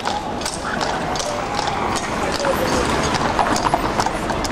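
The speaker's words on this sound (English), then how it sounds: "There's the horses again." Steady clip-clop of horse hooves on pavement in a regular rhythm, with people talking over it amid city street noise in Melbourne, Australia.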